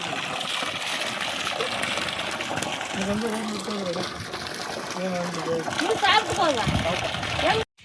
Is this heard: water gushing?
yes